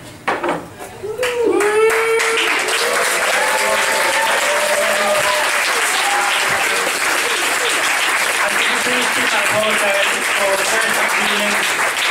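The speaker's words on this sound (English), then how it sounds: "so you start whooping and cheering, we'll get that going" Comedy club crowd bursts into sustained applause with whoops and cheers, loud and dense from start to finish after a brief scattered opening, voices shouting over the clapping.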